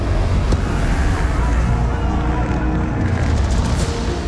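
Motocross bikes at an MXGP race, engines revving hard and loud in a continuous dense roar as riders battle side by side toward the finish line, with no pauses in the engine noise.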